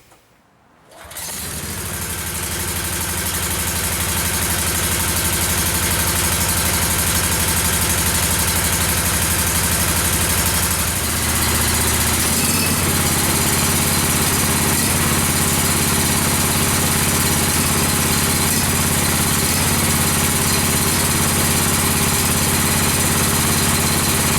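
A Kawasaki engine with faulty ignition coils cranks and catches after about a second, then runs continuously at a loud, steady idle-like drone, shifting slightly in tone partway through, heard close with no speech.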